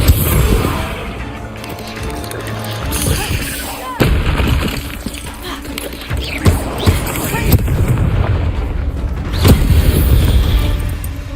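Fiery Confringo spell blasts in the Hogwarts Legacy video game, a run of loud booming bursts and crashes over dense combat noise, with sharp impacts near the start and toward the end.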